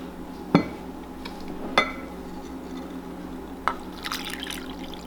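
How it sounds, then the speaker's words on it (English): Water poured into a bowl of sourdough starter and flour for millet and spelt bread, heard as a few separate drips and splashes spaced out over several seconds, followed by soft clinking near the end, close and fairly quiet. "we will be adding 1 cup of water"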